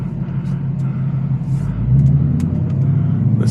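Ford GT350 with an 810-horsepower Whipple supercharger idles with a deep, loud exhaust rumble in drag strip mode, the note thickening partway through, heard close with no talking.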